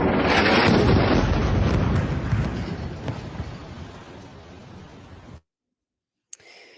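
A close-up bombing strike in Gaza: a loud broadband blast roar rumbles and slowly decays over about five seconds before cutting to silence.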